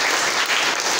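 Audience applause at a school annual prize ceremony honouring position-holder students, a dense, steady wash of many hands clapping throughout, loud and close.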